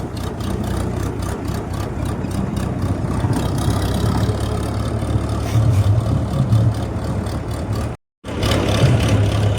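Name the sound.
tractor engine running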